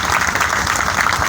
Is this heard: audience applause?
yes